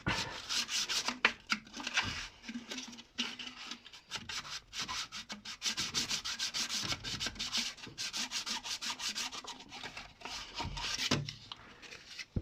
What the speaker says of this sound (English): just wrap your sandpaper in a little bit of wood and just use that